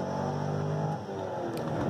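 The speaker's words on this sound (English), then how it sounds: "Take a look at this clip, 0 to 70 with a bone stock LS1" A bone-stock Chevrolet LS1 V8 car accelerates hard from 0 to 70, its engine note rising steadily and loudly up close before easing off near the end.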